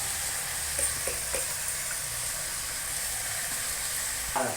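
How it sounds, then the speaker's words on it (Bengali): Spice paste of chilli, ginger, garlic and turmeric frying with meat in a pan, a steady soft sizzle with a few faint stirring scrapes and no talking. "হলুদ দিয়ে একটু ভাজাভাজি করব।"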